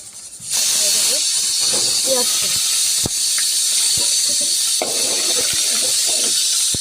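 Cardamom, cinnamon and bay leaf spit and sizzle as they hit hot oil while pulao rice is being cooked, a loud steady hiss that starts abruptly and runs throughout, with a few faint clinks and brief murmurs of talk.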